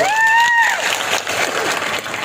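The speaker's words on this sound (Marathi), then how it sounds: "जोरदार टाळ्या वाजवा" A crowd at a public development-project ceremony breaks into loud applause, a dense clatter of many hands, while a brief whistle-like tone sounds at the start.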